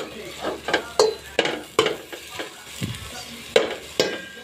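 Miso sautéed with softened tomatoes in a pan for salmon-head sinigang, with a low sizzle under repeated sharp spatula scrapes and taps against the pan at an irregular rhythm.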